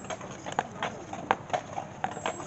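Horse hooves clip-clopping as the animal pulls a carriage on a holiday lights ride, a steady run of light, fairly faint hoof strikes spread through the clip with soft background noise.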